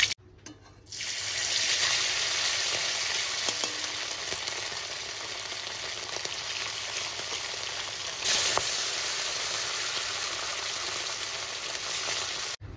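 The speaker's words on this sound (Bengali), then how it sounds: "এইভাবে সমস্ত মাছ ভেজে নিয়ে" Tilapia fish fries in hot oil with a loud, steady, hissing sizzle that starts abruptly, runs for about twelve seconds and swells briefly partway through, with no talking.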